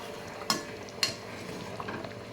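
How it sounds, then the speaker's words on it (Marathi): Malvani fish curry with kokum simmers in a pot with a soft, steady bubbling hiss. Three sharp utensil clinks against the pot stand out, and no one speaks. "मला छान अशी उकळी येते आहे."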